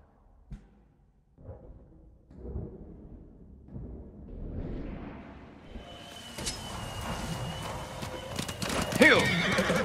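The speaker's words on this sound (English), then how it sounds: "You're a good horse." Horse hooves clip-clop in a steady rhythm in Ghost of Tsushima, growing busier over time, with a horse neighing near the end amid game-like ambience.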